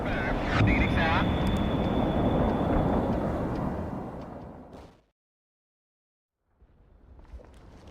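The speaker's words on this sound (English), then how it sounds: "The B-52s are incoming." B-52 bombers in the war strategy game World in Conflict, a loud, rumbling roar that fades out into a sudden silence before a quieter rumble returns.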